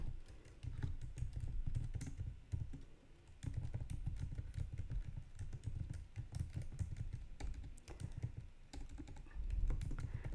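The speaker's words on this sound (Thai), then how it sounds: "เราจะเพิ่มข้อความก็สามารถพิมพ์เข้าไปได้เลยนะคะ" Continuous keyboard typing, rapid clicking keystrokes in steady bursts with brief pauses, recorded close while text is entered in Canva to make a report cover.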